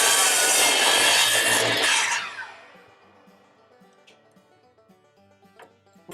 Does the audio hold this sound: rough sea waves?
no